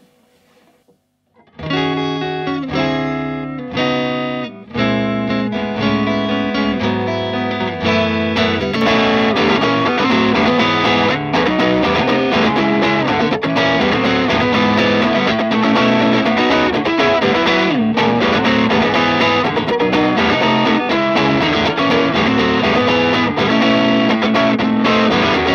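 An electric guitar through a distortion pedal into a Bad Cat Black Cat 30 amp kicks in after a short quiet start, strumming loud, sustained chords with a few brief breaks early on, then playing continuously.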